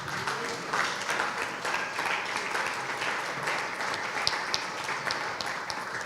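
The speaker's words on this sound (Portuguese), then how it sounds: "Fique de pé e aplauda o Senhor" A church congregation stands and applauds, a full, lively roll of many hands clapping with a few sharper individual claps and some voices faintly mixed in, continuous throughout.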